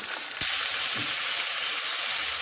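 Rockfish fillet frying in a hot pan, a steady broadband sizzle that jumps louder after a brief quieter start and holds continuous and close.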